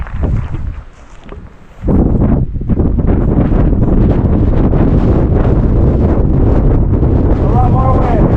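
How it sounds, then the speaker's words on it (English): Strong winter wind sweeps across Balmacaan Saddle in the mountains above the Rangitata, a loud, steady roar buffeting the microphone. It starts a little softer, then surges and holds at full force. "Brian, the air isn't even that cold, but the wind, it just like cuts through you."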